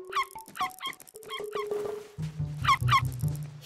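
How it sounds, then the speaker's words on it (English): Cartoon dog barking in a kids' wildlife ranger show: a rapid series of sharp, high yips and barks, then a low droning tone joins beneath a few more bright barks. "Now that's what I call a bark."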